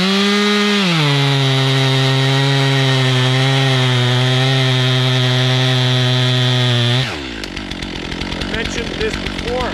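A chainsaw makes the back cut to fell a tree, the engine screaming at high, steady revs close by, then dropping suddenly into a rougher, lower, sputtering chatter as the cut slows.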